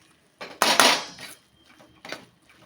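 Sabudana khichdi is stirred in a pan, a few scraping clatters of a spoon against the metal in short separate strokes, close and alone with no talk.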